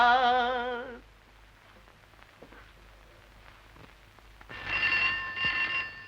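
An old telephone rings in a Hindi film scene, giving a loud electric bell trill, then a quiet pause with faint background noise, then a second bright ringing burst.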